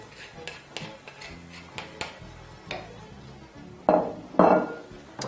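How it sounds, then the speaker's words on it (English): A spoon stirs mince into slowly bubbling tomato sauce for spaghetti bolognese. Metal ticks and clinks against the pot in an uneven rhythm, ending in two louder scraping clatters, close by with no speech. "Just give that a mix and then lower your temperature."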